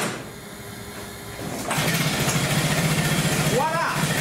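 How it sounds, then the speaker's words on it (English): A Ford Model T engine catches after a moment of quiet and settles into a steady, fairly loud idle close by, with a faint voice over the running engine near the end. "we'll see if the engine will start"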